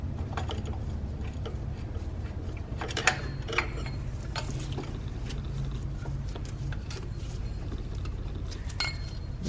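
A ratchet wrench with a size 15 socket works loose the tensioner bolts on a Cadillac STS V6, giving a few short, sparse clicks and clinks over a steady low hum.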